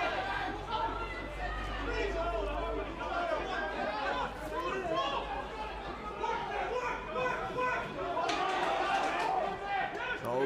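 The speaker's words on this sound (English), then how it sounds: "And just listen to the crowd." Crowd noise fills a rugby stadium during an All-Ireland League match against Old Belvedere, a continuous murmur of cheering voices with a commentator talking over it.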